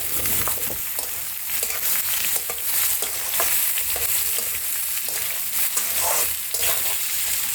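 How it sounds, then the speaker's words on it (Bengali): Onions and potatoes are stirred as they fry in a pan for an egg bhurji, a dense, loud sizzle with repeated spatula scrapes and taps close up, without any talking. "পেঁয়াজগুলো নিয়ে ভালো করে নাড়বো যতক্ষণ না পেঁয়াজগুলো ভাজা হচ্ছে"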